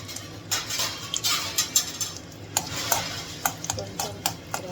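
Cashew nuts fry and sizzle in a pan while a spoon stirs and scrapes, giving a steady crackle broken by repeated sharp metal clinks against the pan close by.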